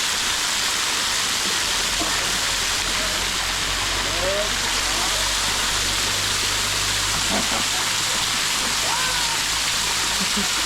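Waterfall near a temple during the rainy season, a steady broadband rush of falling water filling the scene, loud and continuous, with faint voices and occasional brief sounds beneath it.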